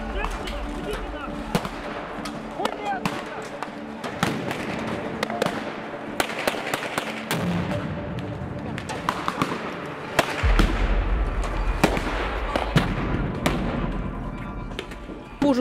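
Loud bangs from stun grenades going off amid street clashes between protesters and police on Shovkovychna and Instytutska streets during the Maidan protests in Kyiv, repeated sharp blasts over a dense crowd roar with shouting voices.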